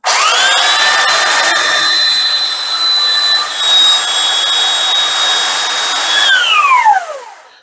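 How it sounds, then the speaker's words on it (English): A loud belt sander whines steadily at high pitch for several seconds while sanding a laminate countertop, then spins down as it is switched off. "And to remove this material, I'm using a belt sander."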